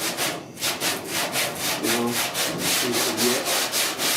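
A sanding block with 80-grit paper works over body filler on the dash of a 1966 Ford F100, giving rhythmic back-and-forth rasping strokes at close range while someone speaks briefly over it.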